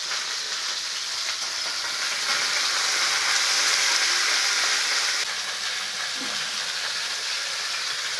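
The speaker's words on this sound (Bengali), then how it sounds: "ফুলকপি ভেজে নিচ্ছি প্রথমে ফুলকপিটা ভেজে নিচ্ছি" Cauliflower fries in oil in a pan for a vegetarian khichuri, giving a loud, continuous sizzling hiss that stays close and even throughout, with no voices.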